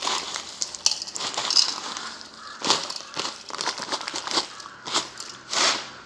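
Salt being added to cut mangoes for pickling, heard as a series of short dry crinkling, crunching taps close by, spaced irregularly with no talk.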